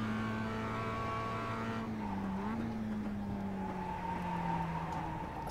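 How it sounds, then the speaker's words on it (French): Race car in the iRacing sim with a steady engine drone and a sustained high tire squeal that bends in pitch midway, loud and continuous throughout, with no talking. "Ah, les pneus qui cressent."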